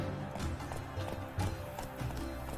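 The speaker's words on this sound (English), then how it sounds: "With a thunderous roar, hoofs pounds the ground." Horse hooves galloping in The Witcher 3, a steady rapid clip-clop of hoofbeats pounding the ground at close range, with a few heavier thuds standing out over the rolling rhythm.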